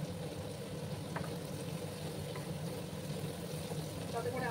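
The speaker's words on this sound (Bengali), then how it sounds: "একটু সময় আমি পেঁয়াজগুলোকে ভাজবো," Sliced onions softening in oil in a pan, giving a steady, soft sizzle and crackle that runs quietly and evenly throughout.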